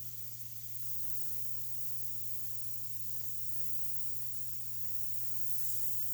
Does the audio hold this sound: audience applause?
no